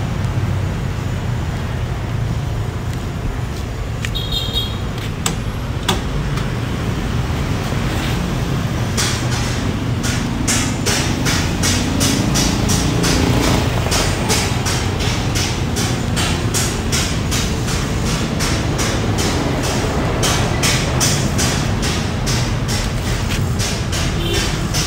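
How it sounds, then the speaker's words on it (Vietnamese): An Iseki GEAS 29 four-wheel-drive diesel tractor engine runs steadily at idle, a continuous low rumble heard close up with a rapid clattering knock throughout. "để mình mở cái động cơ ra cho mọi người cùng xem nha"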